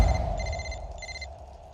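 Telephone ringing in bursts of a repeating electronic tone, two rings heard clearly over a low steady background hum, no talking.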